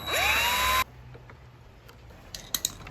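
A power drill whines loudly for under a second as it bores holes for a homemade vise, then stops abruptly, followed by a few faint clicks and taps.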